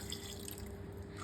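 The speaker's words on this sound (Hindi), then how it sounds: "अब डाल देंगे लगभग 2 कप पानी" Water poured into black chickpeas in a pressure cooker while cooking a curry: a steady, close pouring and splashing stream that runs for the whole moment.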